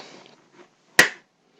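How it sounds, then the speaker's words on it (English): A single sharp hand clap, made to sync footage in a work-day setting, snaps out close and loud after a faint bit of background murmur, with a brief room tail and then quiet. "Always clapping for sync"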